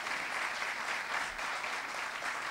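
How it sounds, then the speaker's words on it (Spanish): Applause from a crowd at a first album launch concert in La Pardilla, Telde, dense continuous clapping heard close and loud throughout with no break. "Muchísimas gracias por esos aplausos."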